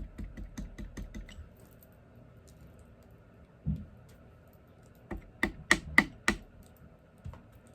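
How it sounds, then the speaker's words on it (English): Rubber stamps pressed onto paper with Old Olive ink, a run of quick light taps followed by a thud and then a cluster of sharper, louder stamping knocks close by. "I'm just going to stamp some of these in Old Olive."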